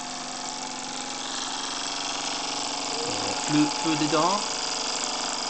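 Vintage Wilesco toy steam engine running, a steady mechanical whir and hiss with a continuous rhythmic chug throughout, fairly close, while people talk over it.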